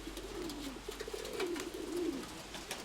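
Pigeons coo softly outdoors in a continuous low, rolling murmur over faint background hiss, with no talking.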